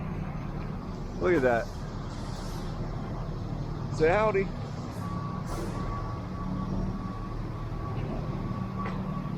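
Construction work near Fenway Park in Boston on a rainy day, with a steady low machinery rumble, a faint continuous tonal beep and a couple of short squealing bursts, heard under people talking close by.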